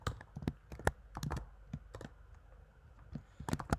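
Python code typed on a computer keyboard: quick, close clusters of light key clicks and taps in uneven bursts, with a short lull before a final flurry and no speech.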